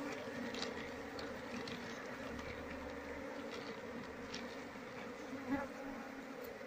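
Dense, continuous buzzing of an Apis cerana honey bee colony, many insects humming together up close, steady throughout with a few faint background knocks.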